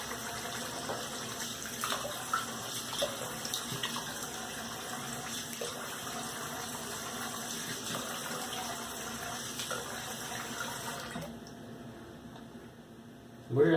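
Tap water runs steadily into a sink during washing after a shave, a constant close splashing rush that stops abruptly near the end.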